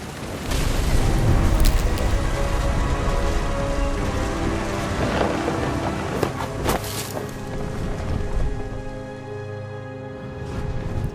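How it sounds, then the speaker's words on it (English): A thunderstorm in What Remains of Edith Finch: steady, heavy rain runs throughout, with deep rolls of close thunder and a few sharp cracks booming over it. "Thunder sounded much too close and full of angry power"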